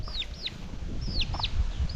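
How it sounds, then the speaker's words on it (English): A hen clucks in a village yard, with several short rising-falling calls repeated over about two seconds against low background rumble. "this is my grandma chicken here"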